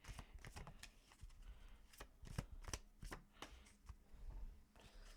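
Tarot cards are shuffled up close in a quiet room, a rapid series of crisp riffling flicks and soft slaps in an uneven rhythm, faint but distinct with no voices.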